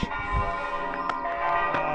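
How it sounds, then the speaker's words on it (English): Church bells in the Swiss village of Rüeggisberg ringing the morning call to church, a few struck tones with lingering overlapping resonance, moderately distant, with quiet background. "It's typically a 15-minute bell service. And we got about 8 more minutes of bells before it's 10 o'clock in the morning. It is the call to church."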